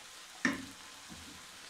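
Minced beef and vegetables frying with honey in a pan, a sharp stir scrape followed by a soft, low sizzle, close and fairly quiet.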